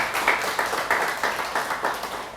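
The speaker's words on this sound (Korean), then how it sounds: "우리 하나님께 영광의 박수 한번 다시 한번." A church congregation claps in rhythmic unison during a Sunday worship service, about seven evenly spaced clap bursts sounding close and moderately loud, with no talking over them.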